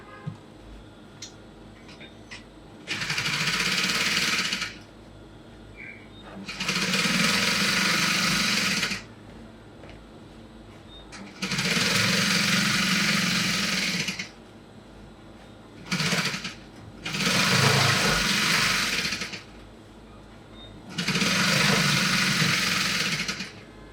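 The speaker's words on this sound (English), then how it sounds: "I'm going to also stitch this upper part just at the tip, so that you can just hold the lining." A sewing machine stitches the tip of a cap lining in five runs of about two seconds each, plus one very short burst, separated by quiet gaps. The whirring is close and clear, with no talking.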